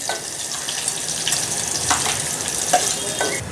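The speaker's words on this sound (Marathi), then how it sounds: "कांदा आणि लसूण चांगला परतून घ्यायचा आहे" Onion and crushed garlic frying in hot oil for chicken sukka, a steady broadband sizzle with occasional stirring scrapes, close and continuous with no voices.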